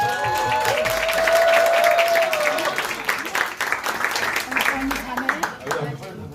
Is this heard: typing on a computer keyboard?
no